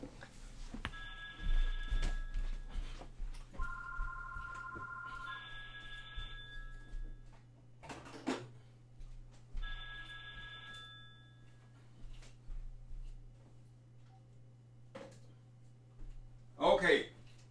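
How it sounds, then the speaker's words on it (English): A landline telephone rings in several repeated electronic bursts with pauses between them, heard in a room under a person talking, with a loud knock or clatter near the end. "Let me go and unplug my phone."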